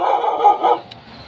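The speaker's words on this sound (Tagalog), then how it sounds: "Hoy, may aso." A dog gives a couple of quick, fairly close barks that trail off into a thin yip, heard in an otherwise quiet moment at a residential building site.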